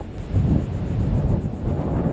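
Strong gusting wind rising to about 15 mph roars and buffets the microphone in a continuous low rumble, with no voices.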